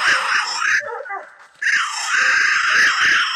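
A coon hunting dog in Louisiana gives loud, continuous high-pitched whining and yelping bays close by, breaking off briefly and then resuming, with voices in the background.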